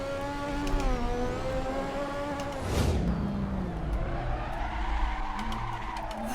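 An F1 car in the racing game Assetto Corsa howls through low gears with a tire squeal and skid midway, engine pitch rising and falling, loud and close with no talk.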